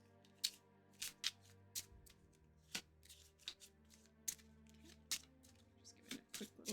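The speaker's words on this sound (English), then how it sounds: "Just give it a quick little shuffle." Tarot cards being shuffled by hand for a solo tabletop role-playing game, a series of crisp riffling bursts and soft slaps at an uneven rhythm, close and fairly quiet with no talking.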